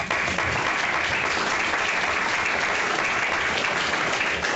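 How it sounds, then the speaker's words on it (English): A round of applause from a panel audience, a loud, dense, continuous wash of clapping that holds steady throughout. "would even suggest a round of applause"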